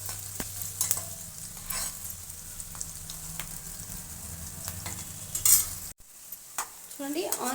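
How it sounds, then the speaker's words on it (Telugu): Chopped onions for vangi bath fry in a pan with a continuous low sizzle, broken by scattered clinks and scrapes of a stirring spoon and a brief clatter near the end. "ఆనియన్స్ అనేది ఈ మాత్రం ఫ్రై అయితే సరిపోతుంది"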